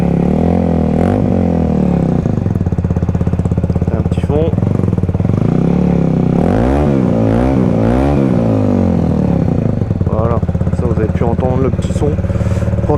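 A 125cc motorcycle with a twin-outlet exhaust sits idling loudly up close, punctuated by several sharp blips of the throttle that rise and fall in quick succession.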